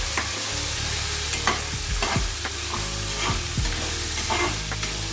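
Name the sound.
chopped raw papaya frying and stirred in pan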